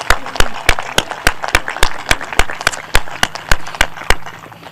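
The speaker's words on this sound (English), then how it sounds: "Please give them a round of applause." An audience at a high school scholarships and awards ceremony claps in a brisk, regular rhythm of crisp sharp claps, fairly close and alone, lasting a few seconds.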